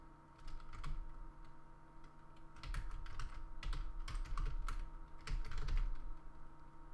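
Steady, rapid typing on a computer keyboard while programming, with clustered bursts of close key clicks over a constant low electrical hum and no talk.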